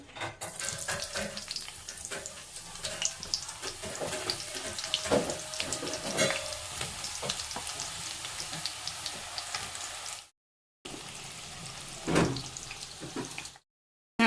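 Eggplant frying in hot oil for Gujarati undhiyu: a steady, dense crackle and sizzle with sharp pops throughout, briefly cutting out near the end and then resuming with a short burst.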